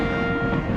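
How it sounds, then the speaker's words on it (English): A train rushes past in the Cookie Run Kingdom video game, giving a brief, loud, dense rumbling roar with a steady mechanical drone and no talk. "The same train rushing towards the holidays"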